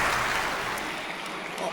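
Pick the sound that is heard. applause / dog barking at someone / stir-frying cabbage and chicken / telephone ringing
applause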